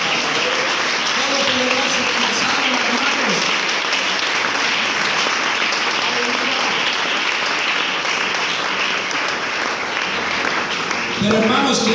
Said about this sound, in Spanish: ¿Qué tal si le damos un aplauso a este Dios?